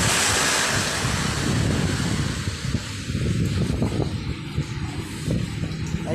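Strong typhoon wind from Typhoon Rolly roars and buffets the microphone in a steady, loud rush with gusting surges throughout, no voices heard.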